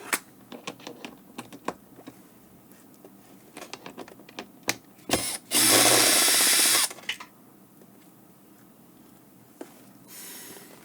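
Small screws being worked out of an Apple iMac 27-inch A1312 during repair: scattered faint clicks and metallic ticks from a screwdriver, with a brief loud buzzing burst partway through, then quiet handling.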